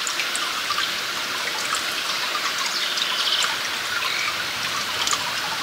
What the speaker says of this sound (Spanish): se llega a ver o a escuchar también cómo el agua va goteando y cae en el agua mineral